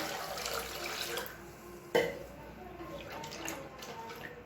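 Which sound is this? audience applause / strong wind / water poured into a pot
water poured into a pot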